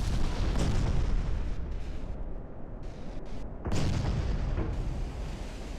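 Naval guns boom in a dreadnought-era battleship sea battle game, heavy overlapping blasts and rumbling concussions forming a dense, continuous barrage that swells again near the end; no talking.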